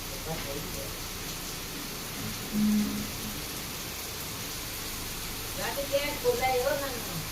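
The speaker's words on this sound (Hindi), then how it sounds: "खतरनाक बारिश आ रही।" Heavy rain pours in Dehradun, a steady broadband hiss filling the whole stretch, with a few brief voices and small noises rising over it near the start and end.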